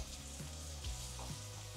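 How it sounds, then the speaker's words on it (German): Schnitzel strips fry in a pan on a ceramic hob with a close, steady sizzle and small crackles throughout. "Muss man ein bisschen in Etappen anbraten."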